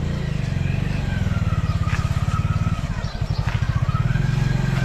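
A motorcycle engine runs close by in a village lane in Sialkot district, its loud, rapid, even pulsing steady throughout, with a faint voice briefly under it.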